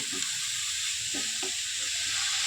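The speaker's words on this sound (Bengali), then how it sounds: "কাঁচা ভাবটা চলে যাবে, হালকা করে ভেজে নেব" Bottle gourd lightly frying in a pan while making payesh, a steady bright sizzle with soft stirring scrapes and faint clinks beneath it.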